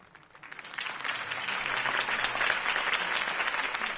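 A video game crowd breaks into applause after Harvey Dent's campaign speech, starting quietly and swelling within half a second into sustained, dense clapping that continues to the end.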